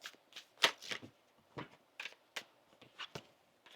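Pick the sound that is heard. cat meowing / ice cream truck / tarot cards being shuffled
tarot cards being shuffled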